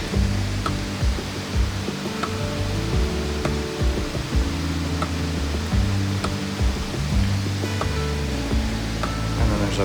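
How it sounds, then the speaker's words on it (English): A big waterfall beside a mossy rock pool, heard as a steady broad rushing of falling water that fills the scene at moderate level, with some low rumbling mixed in. "There's a big waterfall right back there."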